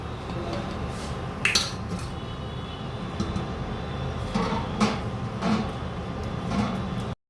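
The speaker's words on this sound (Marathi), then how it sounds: "हे पटापट मिक्स करावे," A utensil scrapes and clinks against a pan while gram flour (besan) is stirred on an induction cooktop, soft repeated scraping with a few sharper metallic knocks, fairly quiet and close.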